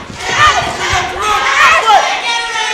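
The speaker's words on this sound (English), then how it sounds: "the crowd firmly behind Erica" A crowd at a women's professional wrestling show cheers and shouts in a dense, continuous roar. Voices rise and fall in swells across the whole stretch.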